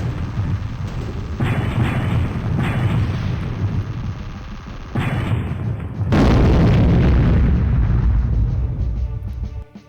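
Explosions in the video game Storm Winds, a dense series of loud booms and bursts that grow heavier toward the end, with little else audible.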